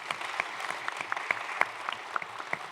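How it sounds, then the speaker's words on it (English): Scattered applause from a small group, played back from a video, irregular sharp claps spread across a few seconds, moderately near, with no voices. "My video kind of applauded itself."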